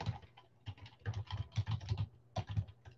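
Quick, irregular keystrokes on a computer keyboard, close and clear, tapping in short bursts with brief pauses and no talking.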